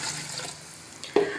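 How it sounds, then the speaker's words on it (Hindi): Water poured into a pan of sautéed potatoes and green chickpeas for a curry, a short soft splashing pour ending in a brief louder gush, close by and without talk. "अब पानी डाल देते हैं इसके अंदर।"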